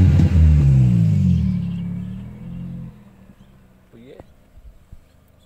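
A Chevy Sonic with a bar-can sports muffler on the exhaust gives a loud, deep rumbling rev close by, which holds for a couple of seconds and then drops back to a quieter idle while someone talks.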